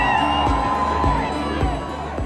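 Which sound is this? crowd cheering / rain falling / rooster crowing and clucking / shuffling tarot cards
crowd cheering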